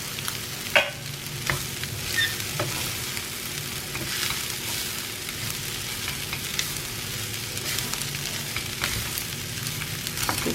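Vegetable fried rice is stirred steadily in a hot pan, a continuous loud sizzle with scraping strokes of the spoon and occasional sharper clinks, no voices.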